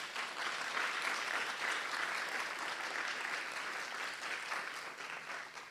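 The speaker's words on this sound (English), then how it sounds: "I want to hear another round of applause, please." Audience applause fills a policy panel session at a research conference on forced displacement, a steady, dense wash of clapping sustained for several seconds at a moderate distance.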